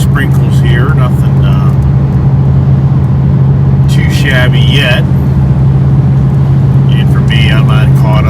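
A Ford Mustang Bullitt cruises at 2,000 RPM and 72 mph with a steady, loud low engine hum and road drone inside the cabin, while someone talks over it at intervals.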